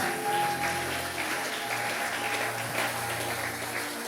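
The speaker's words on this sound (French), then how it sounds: "On peut l'applaudir au nom de Jésus-Christ." Applause in a French-speaking church service, a soft, even wash of many hands clapping at a distance over a steady background tone, with little talk.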